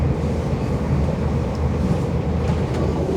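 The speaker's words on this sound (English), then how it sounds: "So I think this train we are taking back to Athy." A passenger train running through Ireland toward Athy, heard from inside as a steady low rumble and rolling hum, loud and close, with faint clicks and no talk.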